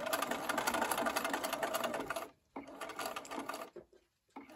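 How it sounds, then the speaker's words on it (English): A sewing machine runs a steady stitching burst along a quarter-inch seam of a quilt Y-seam on a LeMoyne Star block, then stops briefly and gives a few short stitches before falling quiet. "I'm sewing a 1/4 inch from the edge, and I'm going to sew up to this pin."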